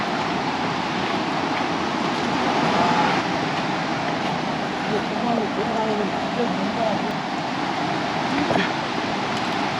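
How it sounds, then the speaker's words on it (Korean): Water of the Budhi Gandaki river in the Himalayan gorges of the Manaslu region rushes in a loud, steady, unbroken roar that carries on for the full ten seconds. "부디간다키 강에 물 흐르는 소리가 힘차게 들립니다."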